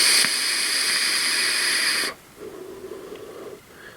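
Steady broadband vapor hiss from a GeekVape Ammit 25 RTA atomizer fired at 25 watts, loud and close for about two seconds, then stopping abruptly and leaving faint low room noise.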